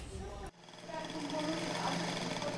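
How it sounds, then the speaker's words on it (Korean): Elderly women run sewing machines in a workshop; a steady mechanical whir and hum rises after a brief cut, with a voice speaking over it. "할머니들이 주름진 손으로 재봉틀을 돌리고 정성스럽게 옷감을 다리고 자르고 있습니다."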